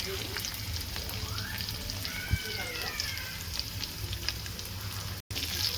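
A small piece of ginger sautés in a hot pan for fish curry, a steady close sizzle and crackle with light stirring, a faint voice briefly in the background.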